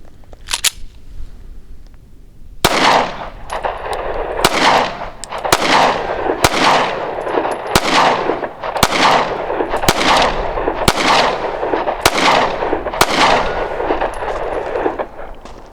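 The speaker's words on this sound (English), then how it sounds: "let's put 10 rounds through this little Sky and see what happens" A SCCY compact handgun fires ten rounds at a steady, deliberate pace, each loud, sharp report ringing out about once a second after a brief quiet lead-in, with no talking.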